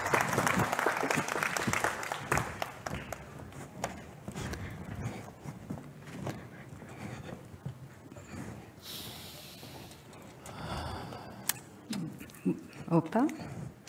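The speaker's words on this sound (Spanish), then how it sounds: "Un aplauso" Audience applause at a Latin American planetarium accessibility event, a sustained patter of clapping that fades into scattered claps, with a voice speaking toward the end.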